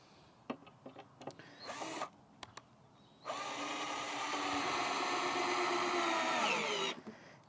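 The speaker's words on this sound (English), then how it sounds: "I'm just going to drive 1 screw into each corner" A cordless drill whirs in a few short bursts, then runs steadily for several seconds as it drives a screw into the wood of a raised garden bed, close and fairly loud, before stopping.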